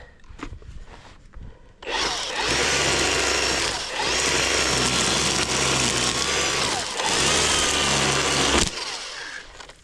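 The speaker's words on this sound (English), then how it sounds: "let's do some weed whacking" A gas-powered weed whacker being run at an abandoned family cabin: a loud, steady, buzzing engine drone starts sharply after about two seconds, holds with a couple of brief dips, then cuts off near the end, with no talk over it.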